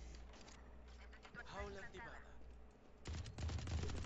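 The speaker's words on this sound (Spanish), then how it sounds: "Me están disparando sin saber dónde estaba" Bursts of gunfire from the first-person shooter Valorant crackle beneath an ongoing voice, with a denser volley near the end, fairly soft overall.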